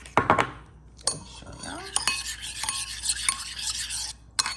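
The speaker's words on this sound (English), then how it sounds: "So we're gonna go ahead and stir that up." A spoon stirs a yeast mixture for dinner rolls in a bowl, opening with a few sharp clinks and then a scraping swirl with light taps against the side, close and clear.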